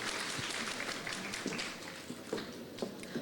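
Scattered audience clapping at a morning sustainability panel session in Manila, fairly quiet and loose, with individual claps popping out irregularly over a soft background wash.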